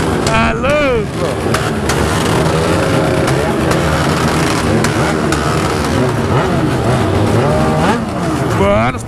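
Car engines rev and roar at a busy street car event, loud and continuous, with rising and falling tones as vehicles pass close by, while people talk throughout the noise.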